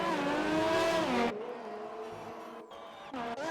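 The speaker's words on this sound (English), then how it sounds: "There is a Ferrari coming." A Ferrari GP3 race car nears a chicane at the Italian Grand Prix, its loud engine note sweeping down in pitch as it brakes, then fading before a short rising rev near the end.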